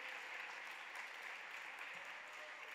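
Steady audience applause fills a gala awards evening, a dense, even wash of clapping from a large crowd with no pauses, loud and close throughout.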